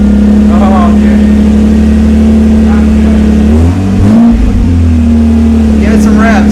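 A Lexus SC300 with its mufflers cut off idles loud and raw, then blips its throttle in a short rev that rises and falls back to a steady, throaty idle, with voices faintly underneath.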